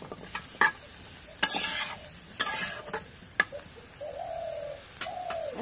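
Curry being stirred in a pan for a village dish with bottle gourd, katla fish and bitter gourd with potatoes, sounding as several separate scraping stirs with a soft sizzle underneath, while birds coo in the background.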